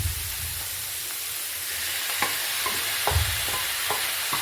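Chicken pieces frying in a pan, a loud steady sizzle with repeated scraping thumps as they are stirred and tossed, close up and without talk.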